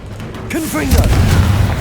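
A fire spell explosion in the video game Hogwarts Legacy: a short voice cry, then a heavy booming blast that swells near the one-second mark and rumbles loudly to the end.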